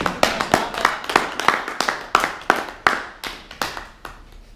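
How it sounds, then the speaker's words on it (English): Sparse applause from a small group at a student Toastmasters meeting, about a dozen distinct, sharp claps at an uneven rhythm, close and clear with no talk. "Give him a round of applause, guys."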